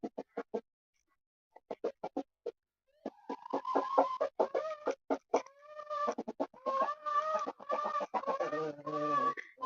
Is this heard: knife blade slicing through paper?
no